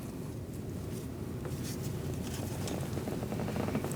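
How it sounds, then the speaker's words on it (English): A small flathead screwdriver scrapes a stuck valve cover gasket off the engine of a 2006-2011 Chevrolet HHR 2.4L four-cylinder, giving close, continuous rasping and scratching strokes at low volume. "I'm using a little flathead screwdriver."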